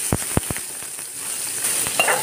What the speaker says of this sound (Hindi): तो अब इन दोनों को मैं करूँगी फ्राई इस तरह से